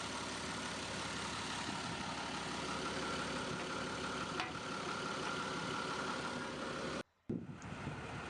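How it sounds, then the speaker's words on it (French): A John Deere-style 6068 DF marine diesel of 127 hp with box cooling, installed in a Dutch barge, idles in a dense steady rumble that cuts out briefly near the end, fairly close and alone. "6068 DF Marine Diesel de 127 chevaux refroidi par Box Cooling, installé neuf en 2011. Il démarre rapidement."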